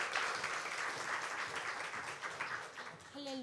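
A church congregation claps in welcome for a deacon coming forward to speak, a steady wash of applause from a room of people that runs throughout before a voice begins near the end.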